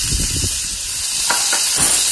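Cherry grilled halibut sizzles in a hot skillet on a Weber charcoal grill, a loud steady hiss with a few soft crackles and faint knocks underneath, close and continuous with no talking.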